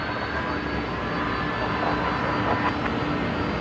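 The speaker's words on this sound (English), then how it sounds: "Qantas A330 on the move" Qantas Airbus A330 moving at Brisbane Airport, a steady distant jet engine roar that holds an even level throughout.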